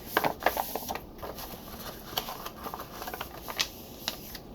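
Rough journal paper page being folded three times, a run of soft crinkling rustles and crisp creases at close range with no voices.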